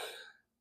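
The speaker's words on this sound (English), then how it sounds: "Sorry about coughing in the microphone." A single cough lands close to the microphone during a trucker's talk broadcast, a sharp loud burst that fades away within half a second.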